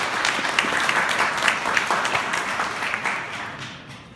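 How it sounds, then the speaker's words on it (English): An audience at a State of the City event in San Gabriel applauds steadily, a dense round of clapping that holds for about four seconds and then fades. "let's give a big round of applause for Anna Claus"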